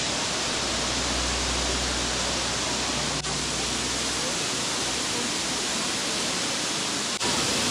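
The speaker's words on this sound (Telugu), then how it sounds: "కానీ వాటర్ ఫాల్ అయితే బాగుంది" Jhari Falls waterfall near Chikmagalur, Karnataka, a steady, dense roar of rushing water filling the whole clip at even loudness, with a low rumble briefly underneath.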